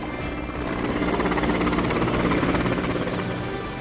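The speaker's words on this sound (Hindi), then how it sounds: "आरएमएल के ऊपर से वायुसेना के विमानों ने फ्लाई पास्ट किया" A steady, loud roar of Indian Air Force aircraft rotors and engines in a flypast over a hospital, with a rhythmic chopping pulse throughout, sustained and close.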